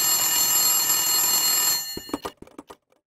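A telephone rings loudly inside the Silent Hill video game, a steady electronic trill that cuts off abruptly, followed by a few short sharp clicks and knocks before silence.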